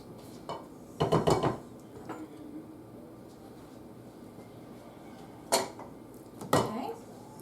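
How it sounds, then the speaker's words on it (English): A spatula scrapes the sides of a mixing bowl of peanut butter bar batter, giving a few short, fairly close scraping and knocking bursts with quiet gaps between them. "I'm going to scrape down the sides of my bowl."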